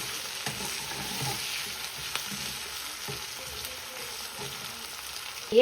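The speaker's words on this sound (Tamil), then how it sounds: "இப்போ நான் வந்து மிளகாயும் வந்து சேர்க்குறேன். அதுவும் வந்து நல்ல வடிவாக பொரிஞ்சு வரணும்." Garlic and chillies frying in a pan for a garlic chutney, giving a steady close sizzle with light stirring scrapes throughout and no talk.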